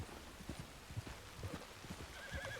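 A horse in Red Dead Redemption 2 ranch roleplay clops at a walk, its hooves thudding in an uneven rhythm with a faint snort or whinny, quiet and a little distant, with no voices.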